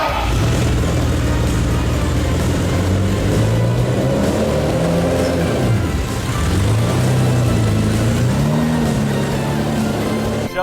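Engine of a Lamborghini Countach idling and revving on the road, a loud, continuous low drone with rising and falling pitch sweeps as the throttle changes, close and steady throughout with no talking.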